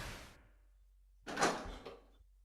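A door opens in the Resident Evil 3 video game: a short thud fades out, a pause follows, then a louder scraping swing with a trailing knock.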